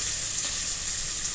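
Fenugreek and chilies frying in hot oil give a steady, dense sizzle that holds even and close throughout, with no voices over it.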